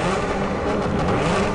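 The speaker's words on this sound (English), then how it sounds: "New supercharged engines give the F-Type its burning sense of urgency." A supercharged 2014 Jaguar F-Type engine roars loudly and continuously for a moment, a dense, steady revving growl.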